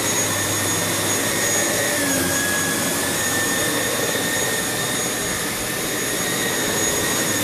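Samsung bagless canister vacuum cleaner running on high pile carpet, a loud steady whine and roar of the motor and suction holding constant throughout, close up with no talk.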